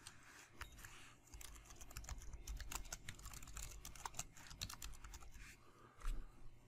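Fingers tap quickly on a computer keyboard while a portfolio name is entered, a run of quiet, close clicks in an uneven rhythm with short pauses.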